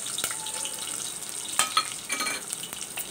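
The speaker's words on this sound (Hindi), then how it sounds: "देखिए दोस्तों, तेल गर्म हो चुका है और अब हम इसमें प्याज डाल रहे हैं।" Chopped onions frying in hot oil, with a steady close sizzle dotted with sharp crackles and pops; no voices.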